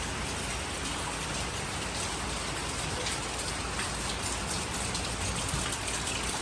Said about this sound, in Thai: พาทุกท่านมาชมกันครับฝนตก น้ำท่วม